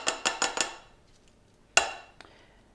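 A metal pot takes a series of quick, ringing knocks, four sharp bangs in rapid succession, then silence before one more loud clank and a faint tap, as drained rice is shaken out into it.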